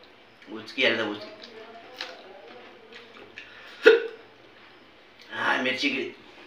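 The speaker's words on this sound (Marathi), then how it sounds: "उचकी आला उचकी।" Hiccups from someone who has just eaten spicy chilli during a spicy potato eating contest. Four or five sharp, close hiccups are spaced irregularly across the quiet stretch, with small breathy sounds between them.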